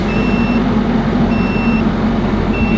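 A Nissan 240SX S14 engine idles steadily after a new fuel pump install, a continuous low hum with a periodic beeping tone over it, loud and near with no talk.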